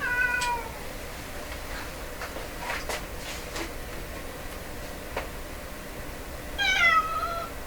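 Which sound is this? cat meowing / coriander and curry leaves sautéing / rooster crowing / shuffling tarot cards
cat meowing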